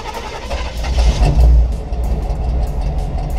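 A C/10 truck engine catches and runs, a loud low rumble that swells briefly and then settles into a steady idle, close by with no talking.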